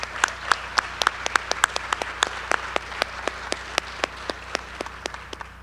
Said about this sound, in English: Can we give them a round of applause real quick?